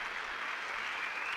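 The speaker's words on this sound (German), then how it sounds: "Das ist irgendwie Applaus." A short burst of steady crowd applause, a dense even hiss of many hands clapping at low volume, used as a sound effect in a Die Drei ??? video game.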